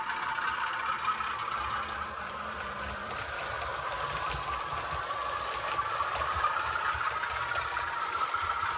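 A Heljan Class 33/2 model diesel locomotive with DCC sound runs at a steady pace along a layout, giving a constant rumbling engine drone with a faint rattle, moderately loud and unbroken throughout.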